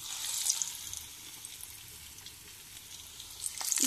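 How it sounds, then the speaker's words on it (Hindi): Moong dal pakoras deep fry in oil, a soft continuous sizzle and hiss that swells slightly at the start and end; quiet, with no talking. "इस तरह आपने 8-10 पकौड़े इसमें फ्राई करने के लिए डाल देंगे।"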